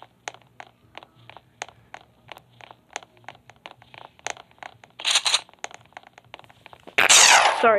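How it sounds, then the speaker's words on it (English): Over a run of soft, evenly spaced clicks, one sudden loud sneeze bursts out close to the microphone near the end, sharp and breathy, from a player during a Roblox Piggy game session. "Sorry, that was a sneeze."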